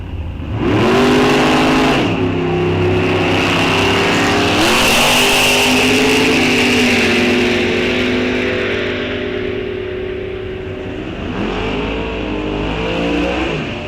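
Drag racing cars, including an '86 Camaro, launch hard down the strip at a raceway, loud engines roaring and revving with rising harmonic sweeps, a brief drop around two seconds, then sustained howl fading slightly near the end.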